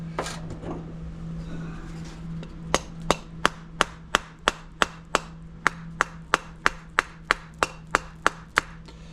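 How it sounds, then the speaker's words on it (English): A rubber hammer beats on a Power Pro by Wen 5500 watt generator that sat four years with fuel in it, about twenty evenly spaced, sharp thumps over a steady low hum. "And grab my rubber hammer."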